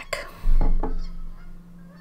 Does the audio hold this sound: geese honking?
yes